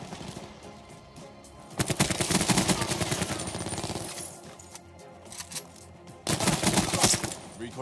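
An automated sentry gun in Call of Duty Black Ops 4 hardcore multiplayer fires in two rapid, rattling bursts, the first sustained for a couple of seconds and the second shorter, loud and fairly close.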